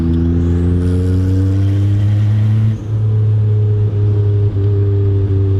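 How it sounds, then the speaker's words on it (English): Twin-turbo Porsche 930 engine heard from inside while driving: a loud, steady low drone with rising turbo whine, a brief dip near the middle as the throttle lifts, then continuing strong. "Oof, that turbo sound."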